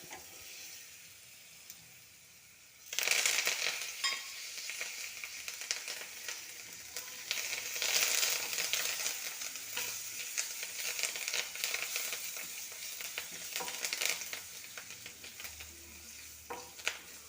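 Garam masala, black pepper, ginger and garlic fry in oil, a quiet hiss that suddenly swells into a loud, dense sizzle and holds steady, with stirring scrapes throughout.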